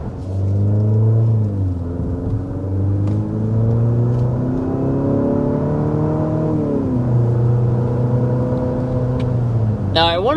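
An Infiniti QX60 Autograph engine accelerates from inside the cabin, a loud continuous rumble whose pitch rises through repeated gear shifts, dropping and climbing again several times.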